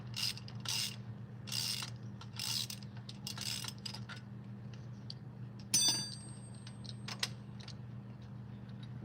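A ratchet works on the rocker arms of a Chevy 305 engine from an El Camino, giving quiet, intermittent bursts of rapid clicking over a steady low mechanical hum.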